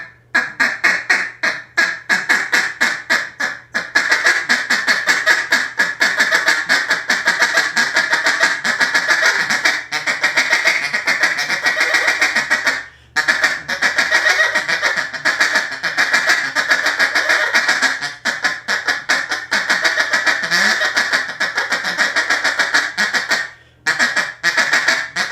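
A handheld duck call blown to mimic the rapid feeding chatter of ducks: dense, continuous nasal quacking bursts in quick rhythm, loud and close, with only a couple of brief pauses and no talking.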